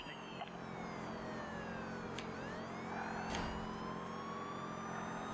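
Wailing police siren rising and falling over engine noise in the racing game Need for Speed Rivals, with tones sweeping up and down, steady and fairly close.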